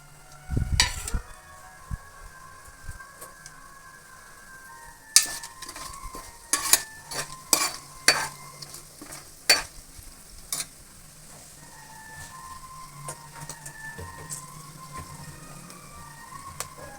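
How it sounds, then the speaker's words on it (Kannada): Whole tempering spices for vegetable pulao fry in oil inside a pressure cooker, giving a quiet sizzle broken by scattered crackles and a cluster of clinking stirs and taps. "ಚೆನ್ನಾಗಿ ಎಣ್ಣೆಲಿ ಫ್ರೈ ಆಗಲಿ"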